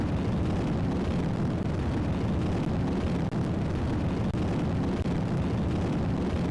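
Rocket launch rumble, a loud continuous roaring blast that stays dense and steady throughout with no speech over it.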